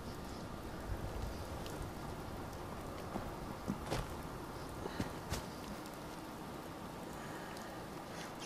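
Steady rain in the Fallout 4 video game, a dense continuous hiss of falling water with a few faint louder drops or taps scattered through, no talk.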